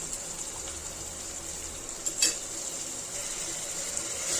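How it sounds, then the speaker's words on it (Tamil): A soft, steady sizzle of prawns and tomatoes sautéing in oil in a pan, with a brief utensil scrape partway through and no talking. "இப்போ இந்த இறாவும் தக்காளியும் சேர்த்துட்டு இதையும் நல்லா வதக்கிக்கலாம்"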